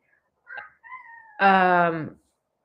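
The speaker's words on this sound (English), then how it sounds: "My cat has been trapped in my room." A cat trapped in a room gives a short chirp, then a drawn-out, loud, close meow, with faint sounds before it and no talk.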